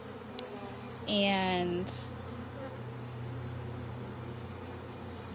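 Honeybees in a ten-frame hive box drone in a steady low hum, with a brief louder buzz as one flies close, while a person talks nearby.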